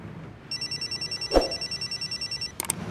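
A telephone ringing with a rapid, steady electronic trill that pulses evenly for about two seconds, fairly close, with a brief click near the end.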